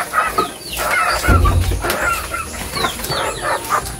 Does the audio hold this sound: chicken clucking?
yes